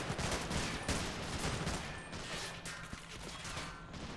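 Dense, continuous gunfire and machine-gun bursts crackle during a World War 2 beach landing on Normandy in Call to Arms, a steady wall of battle noise with scattered sharper reports throughout.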